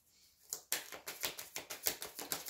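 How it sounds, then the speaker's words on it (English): A deck of tarot cards being shuffled: a quiet start, then a rapid series of about ten crisp papery riffles and taps in quick rhythm, close by and with no voices. "one more shuffle"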